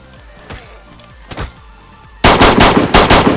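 Gunfire in the DayZ video game, a few scattered distant shots followed by a loud, close rapid burst of automatic fire from an AK-type rifle.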